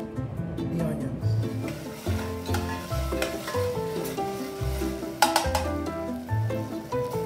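Onions sauté in two tablespoons of oil in a pan with a steady close sizzle and stirring scrapes, while a person talks over the frying.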